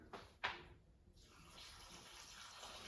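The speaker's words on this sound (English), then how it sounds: "Let's add in the water. About 4 cups of water." Water poured into a pot while making sardine and tomato soup, a brief splash followed by a steady, moderately faint stream of filling water.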